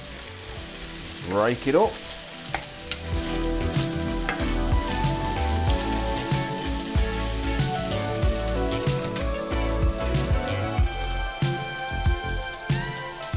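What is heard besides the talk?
streaky bacon sizzling and frying in hot pan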